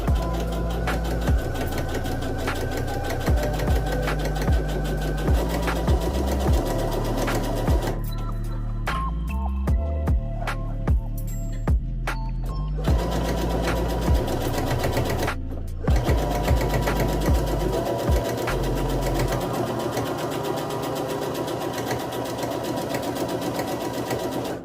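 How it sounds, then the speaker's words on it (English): A sewing machine runs steadily while stitching an elastic waist maxi skirt, a loud, close mechanical whir with rhythmic needle thumping, briefly pausing twice with small clicks before resuming. "I'm going to begin sewing behind the clip that is closest to me"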